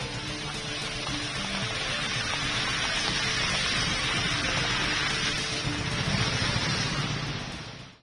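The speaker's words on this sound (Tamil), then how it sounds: "மும்பையில் நேற்று நள்ளிரவு பலத்த மழை கொட்டியது" Heavy rain pours down at night in Mumbai, a dense, continuous roar of downpour that holds steady and loud throughout with a faint vehicle rumble mixed in.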